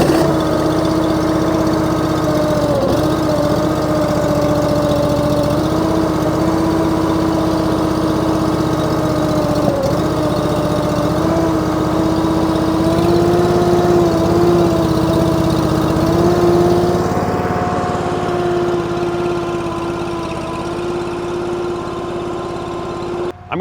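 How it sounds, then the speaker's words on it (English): Wolfe Ridge 28 SHO log splitter engine idling steadily while warming up, a loud, continuous close-up drone with a faint shift in pitch partway through and no talking. "I'm going to let this machine warm up for a minute or two"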